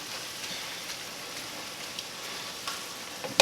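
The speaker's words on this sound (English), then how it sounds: "our sausage is almost fully cooked through. The onions are nice and sauteed" Sausage, onions, garlic and broccoli rabe sautéing in a pan, giving a steady, fairly soft sizzle and crackle with faint pops throughout and no talking.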